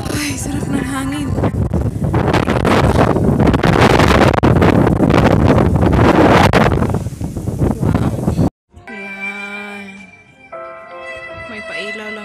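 Wind gusting across an open hilltop peak in Bohol, Philippines, a loud broadband roar buffeting the microphone for most of the span before cutting off abruptly into quieter outdoor sound with faint tones.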